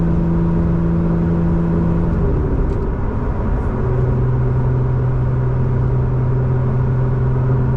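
Lotus Emira fitted with a JB4 tuner and VF Tuner lid, its engine droning loud and steady in a pull toward redline, the tone dropping once partway through before holding again.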